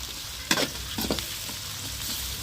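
Onions with ginger-garlic paste frying in a pan: a steady close sizzle broken by a few brief spatula scrapes and stirs.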